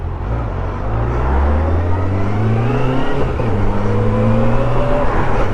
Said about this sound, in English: A very nice sounding engine on her.